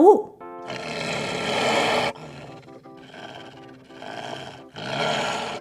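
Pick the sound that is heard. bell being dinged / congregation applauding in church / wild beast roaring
wild beast roaring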